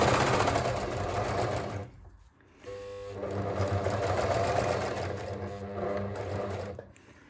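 A sewing machine stitches a knit sweater in steady, close mechanical runs, with a brief pause near the two-second mark before it starts up again and carries on to the end.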